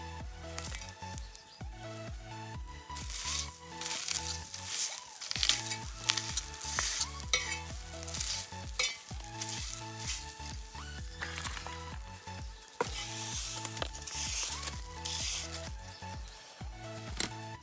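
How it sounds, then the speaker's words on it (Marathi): Roasted onions sauté on a hot iron griddle over a wood-fired stove, giving a continuous sizzle with crackling, pattering bursts and faint stirring sounds throughout. "भाजून घेतलेले कांदे आहेत ना आपण तव्यावर थोडेसे परतून घेऊ"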